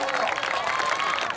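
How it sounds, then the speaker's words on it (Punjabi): Spectators at a free-style kabaddi match during an Urs gathering for Baba Bulleh Shah clap together, a brief continuous wash of crowd applause under an announcer's voice. "ਤਾੜੀ ਮਾਰ ਛੱਡਿਆ ਕਰੋ ਤਾੜੀ ਮਾਰੋ ਕਰੋ"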